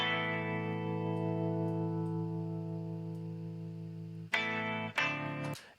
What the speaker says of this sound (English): We're going to send a reverb to from the whole bus.